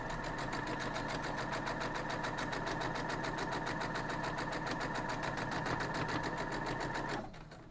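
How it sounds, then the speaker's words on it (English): Sewing machine running steadily at speed while stitching a quarter-inch seam on a small railroad crossing quilt block, a continuous close mechanical whir that stops abruptly near the end. "We're just going to sew 1/4 inch down there."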